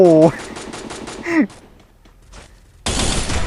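In Free Fire, a rifle fires three-round bursts as a rapid, close series of sharp pulses, while a voice is heard at the start. A loud burst of noise follows after a quiet gap.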